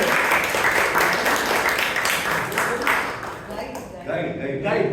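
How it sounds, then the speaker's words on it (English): Applause from participants at an online Toastmasters meeting, a steady, dense patter of clapping running for about five seconds, with speech mixed in underneath. "A big applause to PM IST."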